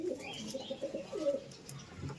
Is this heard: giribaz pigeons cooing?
yes